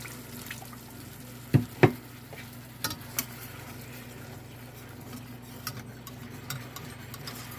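Turkey gravy in a pan being stirred over low heat, with a soft steady sizzle and a few louder clinks and taps of the utensil against the pan.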